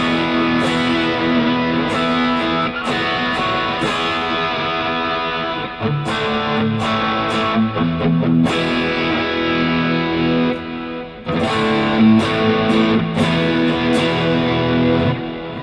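A G&L Doheny Tribute electric guitar plays through overdrive, giving thick, loud distorted chords and sustained notes in a continuous riff, with brief pauses between phrases and no talking.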